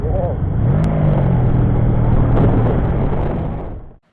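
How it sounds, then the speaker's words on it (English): A Honda VF750C Magna V4 motorcycle engine runs with a smooth, steady drone that rises slightly partway through, loud and close, with no talk over it. "it's so smooth because it's a V4 motor"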